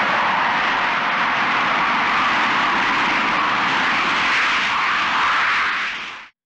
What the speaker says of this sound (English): running away from a plane coming into land